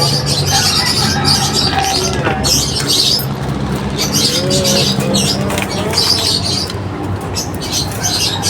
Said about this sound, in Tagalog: Ilipad na natin ang kalapati dito.